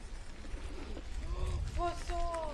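Pigeons coo at a dovecote where a peacock is also kept, with several soft throaty calls close by over low rumbling background noise.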